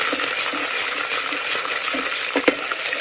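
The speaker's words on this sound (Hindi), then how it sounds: "थोड़ा सा ये भी फ्राई हो जाए इसके साथ" Whole garam masala fries with garlic in hot oil in a pan, a continuous close sizzle with a small clink near the end.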